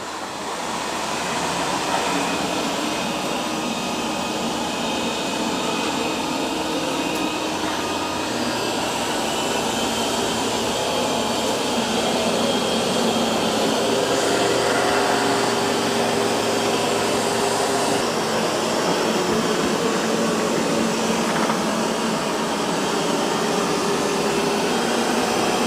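Roborock S8 MaxV Ultra or Dreame X40 robot vacuum mopping muddy paw prints with its spinning mop, a steady close whir of motor and brushes running continuously without pause.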